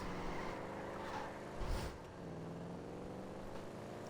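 A motorcycle engine in GTA Online gives a steady, rumbling drone for about four seconds, with a brief louder swell near the middle before it settles back to a constant hum.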